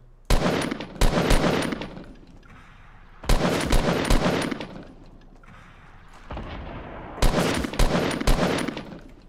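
Automatic gunfire while shooting an enemy in Fortnite Battle Royale: three loud, close bursts of rapid shots separated by short pauses, with no talk over them.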